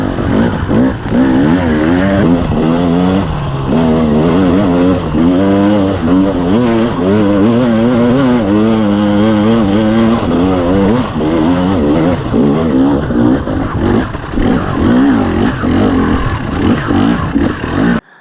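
A 2021 KTM 300 EXC TPI two-stroke dirt bike fitted with an RK TEK head and FMF Gnarly pipe, heard up close as a loud, continuous engine that rises and falls in pitch while being ridden, with no talking.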